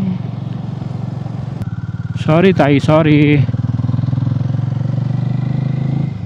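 A motorcycle rides along a highway, its engine a steady, close drone that runs throughout, while a voice speaks briefly over it partway through.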